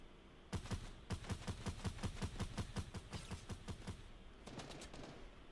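Rapid automatic gunfire in Fortnite Mobile, a steady burst of about twenty evenly spaced shots, then a shorter burst after a brief pause, crisp and close with no talking.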